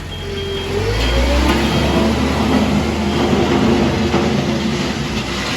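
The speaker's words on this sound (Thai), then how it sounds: "คันนี้จะเป็นคูเบต้ารุ่น RA 500นะคะ เครื่องคูเบต้า4สูบเดี๋ยวเราชมสาธิตกันเลยค่ะ" A Kubota RA500 wheel loader with a four-cylinder Kubota engine runs at a steady, loud idle, with a low continuous rumble and no voices.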